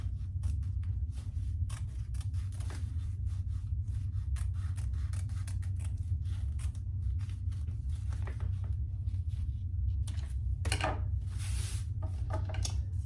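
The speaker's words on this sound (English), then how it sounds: "I'm gonna cut off my excess card slot fabric here" Repeated sharp snips of scissors cutting excess fabric while sewing a shoulder bag, close up, with a steady low hum underneath and a brief rustle near the end.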